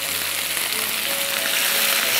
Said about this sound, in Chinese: 把这大蒜煸炒至有点焦褐感时，把我们腌制好的猪头皮肉给它放进去